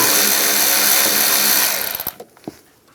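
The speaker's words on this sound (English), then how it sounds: "We're going to loosen up this worm clamp right here using an 8mm socket." A power tool whirs steadily at an 8mm socket loosening a worm-drive hose clamp on a 2015-2020 GMC Yukon XL engine, then cuts off, leaving a few short metallic clicks and taps.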